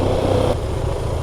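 Husqvarna Svartpilen 701 with a single-cylinder LC4 engine idling at low revs, a steady, close, rough engine thrum holding for about a second with no voices.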